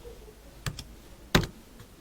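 Keys on a computer keyboard are tapped while account and amount details are entered into ERP accounting software, producing a few sharp, close clicks spaced apart against a quiet room.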